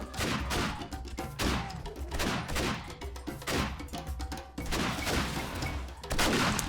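Repeated shotgun blasts in the survival video game 7 Days to Die, loud and close, firing in a rapid irregular volley of heavy booming shots with no talking.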